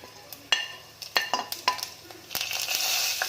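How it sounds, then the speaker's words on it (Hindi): Whole cumin seeds hit hot mustard oil in a pan for a vegetable tahiri. A few sharp clinks of stirring lead into a bright, steady sizzle that swells over the final second. "जैसे ही गर्म हो जाएगा हम इसमें डालेंगे ये खड़ा जीरा"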